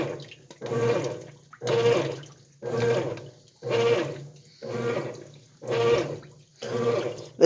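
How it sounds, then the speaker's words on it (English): A GE belt-drive washing machine with a dual agitator churning water in regular swishing strokes, about one every second, each swelling and fading, close and fairly loud with no talk. "alright guys, now we're agitating"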